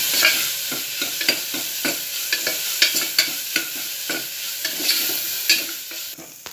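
Cut dried red chillies fry in oil for Kongu-style Chinthamani chicken, a bright continuous sizzle punctuated by regular rhythmic scrapes and knocks of a spoon stirring the pan.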